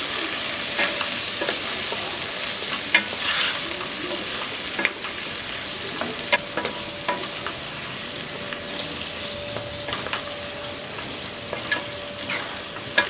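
Okra and potato curry with salt and turmeric sizzling in a pan, with a spoon stirring and scraping in irregular strokes, close and steady.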